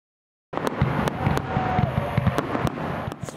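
Fireworks exploding in Florida, a sudden onset of sharp crackling bangs and pops over a dense rumble, with repeated loud reports at irregular intervals and a faint whistle in the middle.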